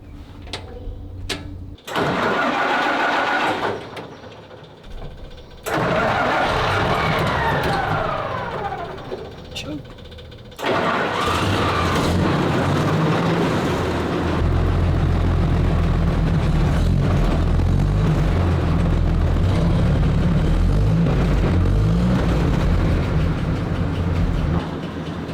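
WWII tank with a big-capacity six-cylinder side-valve petrol engine cranking in short bursts, then catching and running as a loud, steady, deep rumble; a bell rings and people talk near the start.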